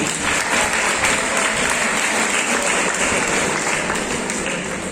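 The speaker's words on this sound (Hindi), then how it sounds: "तालियां बजनी चाहिए।" Steady, dense applause from an audience at an NCC prize distribution ceremony at MGGC, Mayabunder; many hands clap evenly and continuously throughout.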